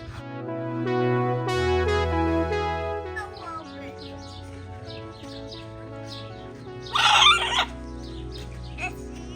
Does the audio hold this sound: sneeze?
no